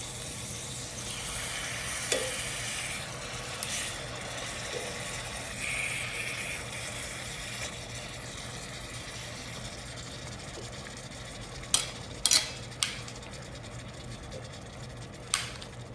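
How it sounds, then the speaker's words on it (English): Steady sizzling hiss of steak frying in a hot pan, with a few sharp clicks and scrapes near the end; no talking. "You hear that sizzle? That's what you want to hear."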